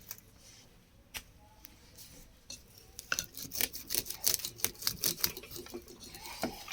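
Pruning shears snip old leaves off a potted plant being shaped into a palm form, a run of sharp clicky cuts that starts sparse and quickens into dense close snipping.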